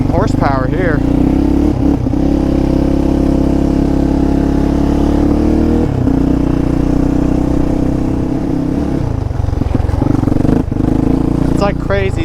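A sport quad ATV engine idles loudly and close by for over twelve seconds, a continuous rough mechanical drone with small swells in revs, and faint voice-like bits near the start and end.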